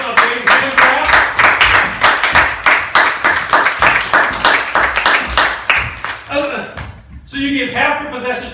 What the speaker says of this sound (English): I think this man deserves a big hand clap.